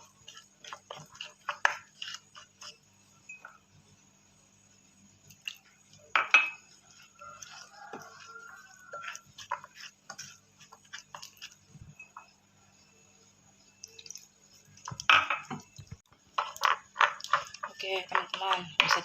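A spoon stirs a half-liquid flour batter for crispy shrimp in a bowl, making irregular clinks and soft scraping in scattered bursts with quiet gaps between them.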